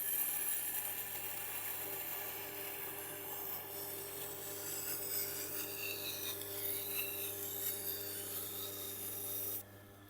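A damaged Global kitchen knife's tip rasps steadily against a turning Tormek sharpening wheel, a quiet, continuous grinding hiss with no talking, ending abruptly near the close.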